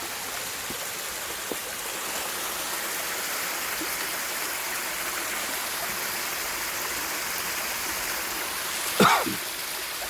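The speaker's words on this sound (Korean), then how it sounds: "아, 월연대 폭포" Water pours steadily over the Wolyeondae waterfall in a park, a constant broadband rush heard from a moderate distance, with a brief splash or knock near the end and no talk.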